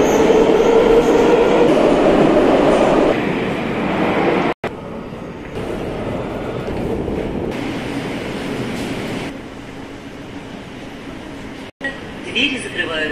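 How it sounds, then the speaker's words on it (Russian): Loud, steady rumble of a Moscow metro train rolling through the tunnel at Frunzenskaya station, with clattering wheels and brief dropouts, a voice faintly present beneath the noise. "Станция метро Фрунзенская."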